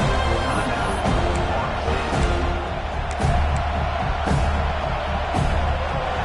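A football stadium crowd roars in a sustained, loud wall of noise on a fourth down, with surges of cheering rising and falling throughout.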